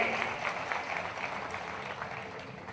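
A crowd at a religious festival gathering in Udhna claps continuously in a dense, even patter, moderately loud and sustained throughout.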